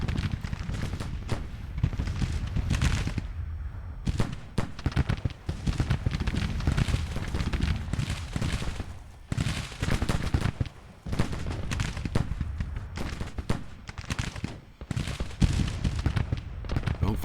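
Dense, continuous musket volleys and scattered shots fill a Civil War video game battle at Manassas Junction, crackling steadily near and far with brief lulls throughout.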